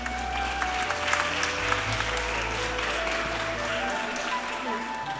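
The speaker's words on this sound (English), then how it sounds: "Aban Muhammad Saju, Please give him a round of applause." Steady applause fills a graduation commencement hall as graduates are called up, many hands clapping continuously at moderate loudness, with low rumbling room noise beneath.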